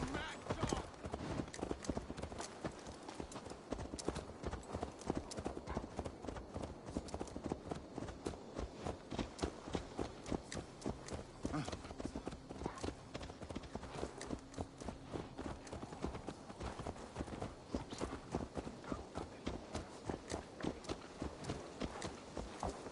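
Horse hooves clip-clop steadily throughout in Assassin's Creed Valhalla, a continuous brisk walking rhythm at moderate volume with faint game ambience beneath.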